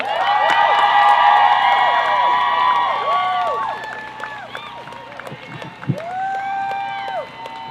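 A rally crowd at a Bans Off Our Bodies event in Portsmouth, NH cheers and whistles, loud whoops and shouts swelling then thinning out, scattered applause continuing as a speaker begins to talk.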